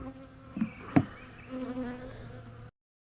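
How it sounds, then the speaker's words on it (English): Honey bees in two-frame mating nucs with a frame of bees and brood: a faint, steady buzzing hum close by, with a couple of brief sharper rustles, then silence. "there's a frame of bees and brood"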